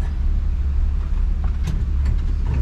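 Steady low engine rumble from a 1966 Chevrolet C10 Stepside pickup truck driving, fresh from the mechanic, with a continuous close drone and faint higher noises over it.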